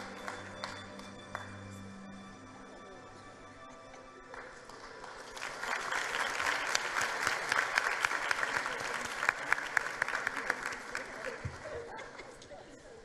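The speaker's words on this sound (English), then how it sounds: "Can we please give her a round of applause?" Audience applause for a top learner at a matric results announcement, starting quiet with a few scattered claps and swelling into a full, sustained round of many hands before tapering, with faint voices in the background.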